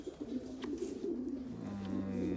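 Pigeons coo in a racing pigeon loft, a low, steady, close murmur of overlapping coos with faint chirps and no talk.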